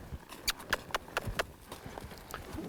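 A horse walks while ponying another horse on a lead rope, its hooves striking in a steady, moderately close clip-clop rhythm that fades a little toward the end.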